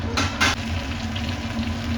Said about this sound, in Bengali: এবার আলু আর পটলগুলোকে একটু লাল লাল করে ভেজে নেব।